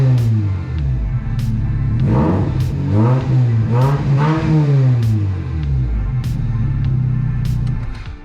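The engine of a 2006 Hyundai Tiburon GS without a fully built exhaust revs close by, a steady deep idle rising into several growling revs and falling back, loud and continuous.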